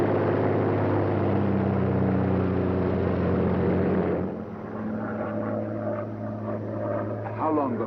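A Royal Air Force propeller plane drones steadily in flight, a loud continuous engine hum with voices speaking over it.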